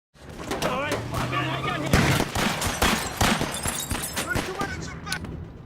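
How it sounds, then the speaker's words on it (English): Sharp bursts of gunfire crack repeatedly in quick, uneven volleys during a shootout between police and mafia, mixed with shouting and commotion. "Gunfire erupts as officers shoot without waiting for Colin's command"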